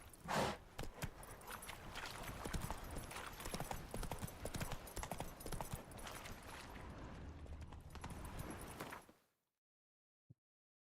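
Horse hooves galloping in the Witcher 3 video game, a dense, continuous run of clattering hoofbeats that stays loud for about nine seconds, then cuts off abruptly into silence with one faint knock near the end.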